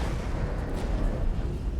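A video game explosion, a dense, continuous low rumbling blast with crackling debris, fairly loud and steady throughout with no voices.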